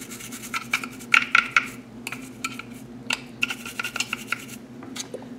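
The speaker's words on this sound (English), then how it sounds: "we scrub them with a soft bristled brush" Soft-bristled brush scrubbing surgical instruments coated in instrument detergent, giving close, irregular bursts of scraping and light metallic clinks over a steady low hum, with no talk.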